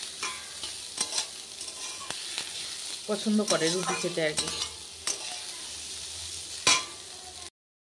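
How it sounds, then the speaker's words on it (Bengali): Snake gourd frying in a wok, a soft steady sizzle with occasional stirring scrapes, faint beneath a voice talking. "চিচিঙ্গে ভাজা কড়াইতে দিয়েছি"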